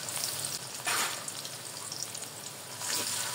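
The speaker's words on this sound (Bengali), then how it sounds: "ভালো করে একটু কষিয়ে নিব।" Onion, garlic paste and ginger paste fry in hot oil with a bay leaf, giving a steady, close sizzle with brief louder crackling bursts as the mixture is stirred.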